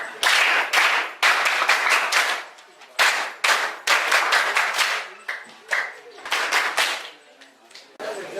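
Hands clap together across a crowd at a Gambella high school gathering, the applause coming in repeated loud bursts with brief dips, nearby voices mixed underneath.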